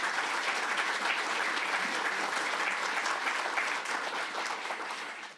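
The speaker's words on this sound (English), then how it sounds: "so let's please give them a round of applause" An audience at a mayor's State of the City address applauds the city team, a sustained, even wash of clapping from a large room that holds steady and then tapers off at the end.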